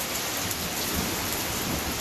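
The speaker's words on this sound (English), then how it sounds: "Comes the rain." Heavy rain arriving with a storm forecast to bring 60 mph winds and large hail, a loud, dense, continuous patter and hiss close by with a faint low rumble beneath, no voices.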